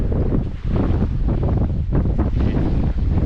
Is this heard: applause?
no